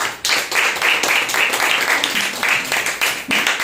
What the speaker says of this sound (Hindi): एक बार जोरदार तालियां परमेश्वर के लिए